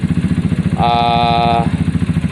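A Zontes motorcycle engine idles with a steady, rhythmic putter after its idling fault was fixed, and a brief high tonal whine rises over it in the middle.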